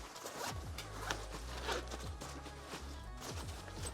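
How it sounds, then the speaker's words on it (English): A bag's zipper is drawn open in several rasping pulls, close and moderately quiet, with soft handling noise between strokes and no speech. "So we have to open up the zipper."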